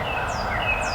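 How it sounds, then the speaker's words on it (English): Wild turkeys gobble during a Georgia hunt, a quick rattling gobble burst rising over steady outdoor background, fairly close and loud for its brief second. "Let this turkey that I'm calling to hear these two turkeys gobbling"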